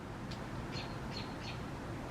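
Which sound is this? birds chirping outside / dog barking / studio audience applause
birds chirping outside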